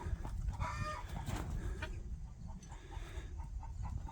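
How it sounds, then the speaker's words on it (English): Guinea fowl let out of their coop on a farm in the morning, giving faint, scattered squawks and clucks at a distance over steady outdoor background noise, with no talking. "Got to let the guineas out this morning."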